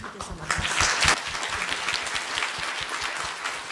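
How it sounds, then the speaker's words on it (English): Audience applause for panel speakers at a panel discussion, a clatter of many hands swelling early then settling into steady clapping, moderately distant, with some voices faintly under it. "let us give us our panel speakers some applause"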